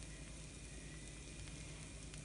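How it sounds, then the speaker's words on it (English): A moong dal lentil crepe frying in a pan gives a steady, even sizzle that holds alone at low level throughout. "we have it nice and sizzling"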